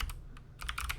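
Quick keyboard typing, a brief run of sharp key clicks over about a second, close and quiet.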